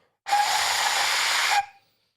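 A handmade replica Mayan death whistle is blown once at low volume at night, a harsh breathy hissing shriek lasting just over a second that stops abruptly, with silence before and after.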